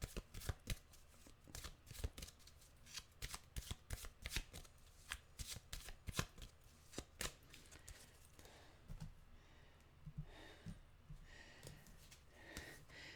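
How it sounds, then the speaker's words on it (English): A deck of animal oracle cards being shuffled by hand, with repeated close riffles and flutters in quick bursts followed by a softer pause and a few quieter card taps near the end. "Okay, we will get an animal card, of course."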